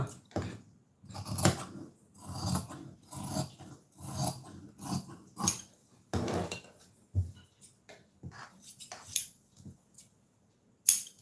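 Scissors cut through blouse sleeve fabric on a tailoring table in a steady series of short snipping and crunching strokes, close and fairly loud, with no talking.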